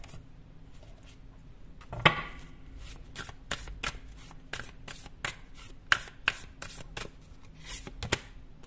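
Tarot cards shuffled and drawn by hand: quiet, close riffles and crisp flicks arriving in an irregular stream, with one sharper slap early on.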